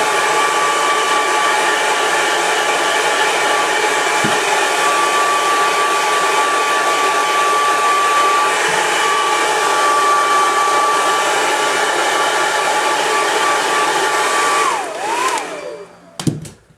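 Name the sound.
hair dryer heating rifle lower receiver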